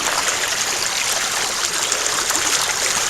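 Water rushes steadily through a gold-prospecting sluice box at a good flow, a close, continuous broadband splash and gurgle with no pauses and no voices.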